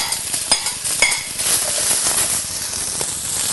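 Mushrooms, carrots and pepper fry in a pan with a steady, close sizzle and hiss, punctuated by light stirring scrapes.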